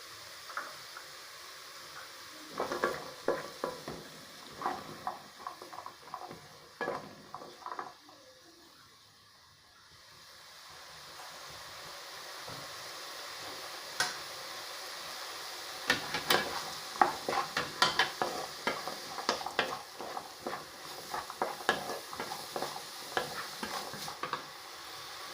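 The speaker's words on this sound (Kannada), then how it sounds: "ಈರುಳ್ಳಿ ಬಟಾಣಿ ಫ್ರೈ ಆಗಿದೆ" Onion and green peas fry softly in a pan while a spoon stirs and scrapes them in bursts, with a quiet pause midway, close and moderately loud, no talking.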